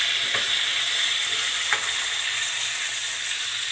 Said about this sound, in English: And we're going to go ahead and stir.